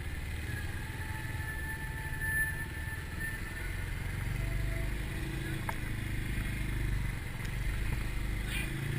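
A Bristol BR 250 motorcycle, a 2020 model, creeps through an ultra slow speed slalom, its low engine rumble steady and near with slight rises in throttle, mixed with faint wind and clatter.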